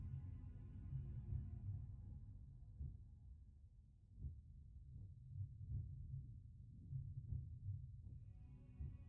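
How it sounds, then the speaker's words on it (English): A slow, steady heartbeat thuds faintly in the background of The Sinking City video game, each low pulse evenly spaced under a quiet ambient hum. "Can you hear that heartbeat in the background?"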